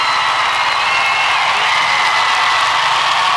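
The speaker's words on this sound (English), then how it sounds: "Listen to that crowd" A large crowd at the Rolex Kentucky Three-Day Event, an equestrian competition, roars and cheers for a pony, a dense, steady wash of cheering and applause that holds loud throughout.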